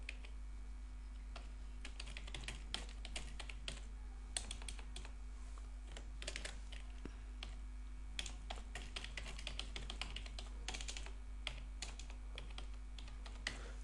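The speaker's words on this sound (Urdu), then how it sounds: "آپ ٹائپ کرنا شروع کریں۔" Steady typing on a computer keyboard set to an Arabic layout: soft, close key clicks run on and on in irregular bursts over a faint, constant hum, with no voice.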